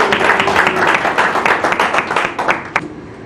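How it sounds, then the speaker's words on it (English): Audience at an annual domain registrar awards ceremony applauds a category winner, a steady dense patter of many hands clapping that fades toward the end. "A round of applause, please."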